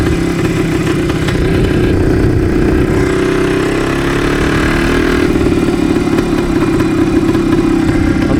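A Yamaha DT360 motorcycle engine runs loud and close, revving up toward full throttle and holding a steady, buzzing two-stroke drone with slight shifts in pitch, no talking.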